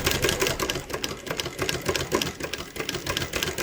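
A Mannan King chain stitch embroidery machine stitches a patch with a steady, fast mechanical chatter of rapid needle strokes and a whirring motor, loud and close, with no talk.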